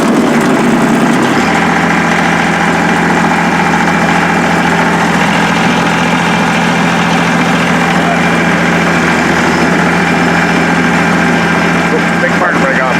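A Kubota BX22 compact tractor engine runs steadily at idle, a loud, close, continuous low rumble with constant vibration that holds at the same level throughout.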